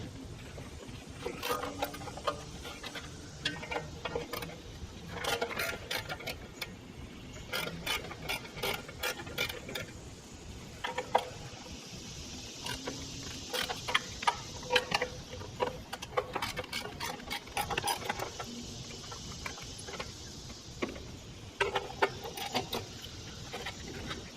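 A hand ratchet clicks in quick, repeated runs while loosening the 12 mm heat shield bolts on a 2002-2006 Toyota Camry. The clicks are close and continuous over a faint background hiss.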